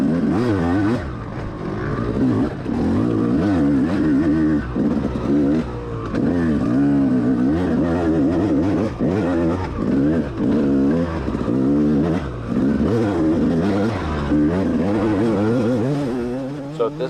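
A dirt bike rides an enduro trail of red clay in the Cherokee NEPG race, its engine loud and close, revving up and down continuously as the rider works through the terrain.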